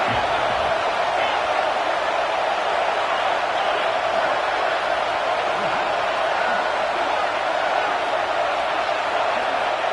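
Loud, steady stadium crowd roar in a college football video game, with Nebraska fans cheering on a big third down, a continuous dense wash of voices that never lets up.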